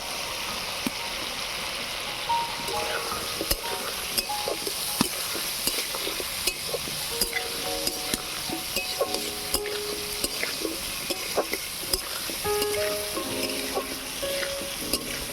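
Washed potatoes hit a pan of cooked-down spice masala for a Bengali egg chop and potato chorchori, sizzling steadily with repeated spoon scrapes and stirring clatter close by, no voices.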